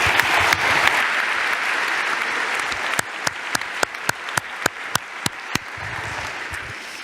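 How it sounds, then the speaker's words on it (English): A conference audience claps for the demo authors at a closing ceremony. The dense applause starts out broad and sustained, then thins to a handful of sharp, distinct claps that trail off. "All right, a big applause for all the demo authors."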